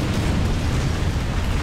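Dense, overlapping booms and bursts rumble loudly and continuously in a War Thunder tank battle, with heavy low-end blasts and no pauses between them.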